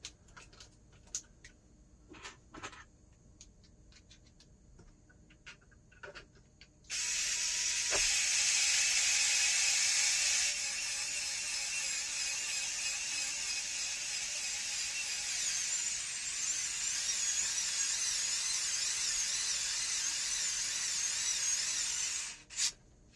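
A power tool driving M5 screws into a LaCroix Hypertruck hyperdampener system: a few light clicks, then a steady loud whirring drone of about fifteen seconds that cuts off abruptly.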